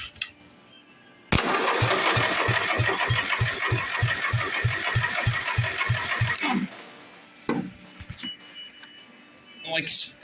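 A racing lawn mower's small engine chugs at a rough, too-low idle, with evenly spaced thumps for about five seconds before it cuts out. Voices and handling noises follow.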